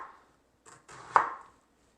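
A kitchen knife slicing through an onion on a cutting board, a few soft cuts ending in one sharp knock of the blade against the board, close and quiet.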